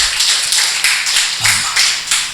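Congregation at a Tamil Bible study claps together in a loud, close, evenly pulsed rhythm, several strong beats in a row with a faint low voice briefly beneath.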